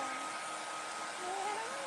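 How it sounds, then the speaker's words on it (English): Blow dryer running steadily at close range while a couple paints, a continuous broadband whoosh with a faint whine that shifts slightly in pitch partway through, with no talking. "So I'm going to hit the blow dryer."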